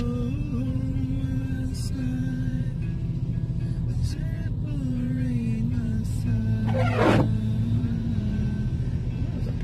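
A purple car carrier truck rumbles past in rain on a road heard from inside a vehicle, a low steady drone that swells briefly as it passes, with a voice talking over it.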